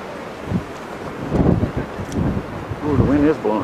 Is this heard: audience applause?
no